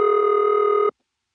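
A telephone ring tone carried through a 1977 step-by-step exchange in Rock Hill, South Carolina, holds one steady, loud burst for under a second, then cuts off to silence.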